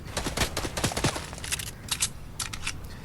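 Gunfire in the Fortnite video game: rapid bursts of sharp shots in clusters, several quick volleys separated by brief pauses, fairly close and crisp.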